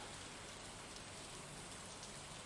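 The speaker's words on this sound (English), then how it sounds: "Man, it's a rainy," Steady rain falls in the farming video game Stardew Valley, a faint, even hiss of dense drops with no breaks and no voices.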